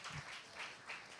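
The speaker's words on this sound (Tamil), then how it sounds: "கைத்தட்டி கர்த்தருக்கு நன்றி சொல்லு." A church congregation claps together in steady, even applause during a worship service, a dense wash of hand claps heard from across the hall.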